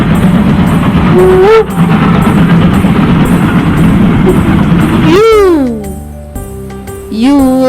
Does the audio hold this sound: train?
yes